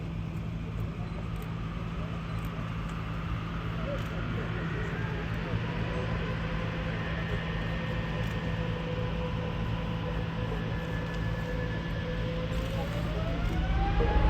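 An Airbus A350-900 taking off at the Farnborough International Airshow 2022, heard from a distance as a steady low jet roar with a whining tone that climbs toward the end, fairly faint overall.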